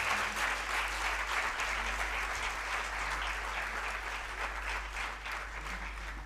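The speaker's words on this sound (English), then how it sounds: "Please extend a very warm welcome to Sunanda ji and other artists with a huge round of applause" Audience applause at an auditorium inauguration welcoming a singer and accompanying artists, a steady dense clapping that holds evenly for several seconds, with a low hum underneath.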